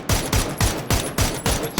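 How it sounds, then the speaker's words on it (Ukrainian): Rapid bursts of automatic gunfire in PUBG, about six short volleys in quick rhythmic succession, loud and close with a sharp synthetic edge. "а там на горі стріляють"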